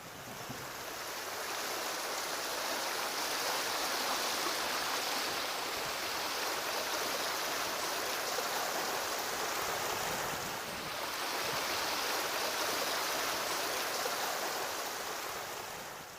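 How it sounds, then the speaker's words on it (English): A small creek flowing through urban woods, heard as a continuous, fairly loud broadband rush of running water that stays steady throughout with no voices. "The small creek that flows through this urban wooded area helps wildlife to thrive"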